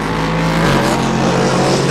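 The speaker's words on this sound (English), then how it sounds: "Here comes a Lamborghini." Race cars led by a Lamborghini roar past at Sebring during an SCCA club race, a loud, continuous engine howl close by that fills the whole moment with no pause.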